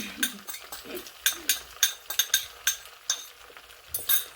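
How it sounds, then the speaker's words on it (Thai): Egg frying in a wok for shrimp pad thai, with a soft sizzle under repeated sharp metallic scrapes and clinks of a spatula stirring, close and rhythmic, about a dozen strokes. "แล้วเราก็ตีไข่ลงไปค่ะ"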